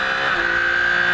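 A Porsche race car at Zandvoort accelerates hard out of a corner, a steady high engine whine holding loud and close for a moment with no voices.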